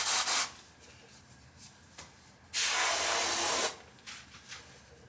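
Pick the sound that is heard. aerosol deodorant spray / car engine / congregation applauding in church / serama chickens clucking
aerosol deodorant spray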